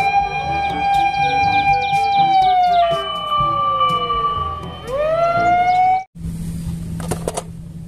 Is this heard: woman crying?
no